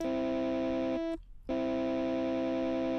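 A sustained synth tone runs through Ableton's Amp and Cabinet effects, buzzy and harmonically rich, with a brief half-second break of noisy dropout before the tone resumes steadily.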